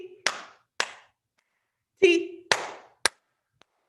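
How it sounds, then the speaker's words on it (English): Hands clap sharply at a children's storytime, about half a dozen separate claps in an uneven rhythm, with a voice speaking letters between them. "We're going to clap 5 times, okay?"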